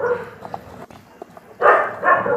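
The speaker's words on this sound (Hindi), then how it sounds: "रॉकी जोर जोर से भौंकने लगता है" A dog barks loudly in an Indian village setting, a few sharp close barks at the start followed by a louder burst toward the end, with no talk.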